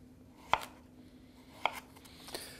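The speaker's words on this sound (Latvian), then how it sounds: "Griežam daiviņās." A knife cuts washed, skin-on potatoes into wedges on a board, with three sharp separate chops spaced about a second apart over a faint quiet kitchen background.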